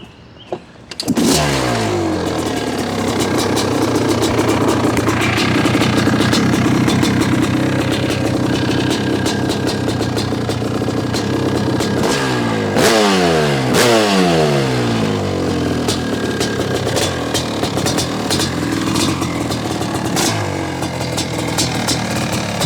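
Rebuilt 2001 Honda CR500 two-stroke motorcycle engine fired up and running steadily, with loud close revs rising and falling, including a sharp run of blips in the middle.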